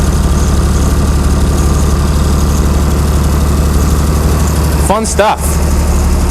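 A Chrysler Slant 6 engine driving a generator, fitted with Holley Sniper EFI, idles loud and close with a steady low rumble, while a voice speaks briefly near the end.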